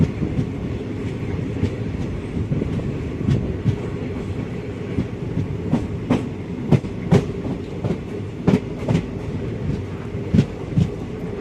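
The Basava Express train rumbles steadily along the tracks near Mysore's goods terminals, its wheels clacking in irregular sharp clicks over the rails, close and continuous with no voices.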